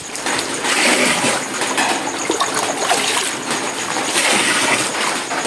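Water pours and splashes steadily into a drum that is already full, a continuous loud rushing and gurgling that swells and eases slightly over several seconds, with no talking.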